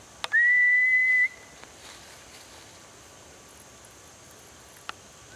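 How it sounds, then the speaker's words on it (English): A single steady, high-pitched human whistle lasting about a second, fairly close, in a Sussex woodland, followed by quiet outdoor background with a couple of faint clicks. "Right, well we heard a whistle here."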